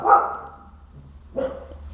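Dogs barking nearby indoors, two sharp loud barks separated by a brief pause, with no voices over them.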